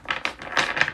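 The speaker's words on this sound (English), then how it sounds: "as soon as I get done shuffling" Playing cards being shuffled, giving a quick series of crisp riffling bursts with a papery, clicking texture, close and fairly loud with no voices.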